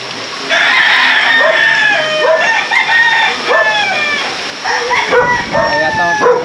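A dog barks at a poultry farm among loud, overlapping chicken crowing and clucking that fill the scene close by.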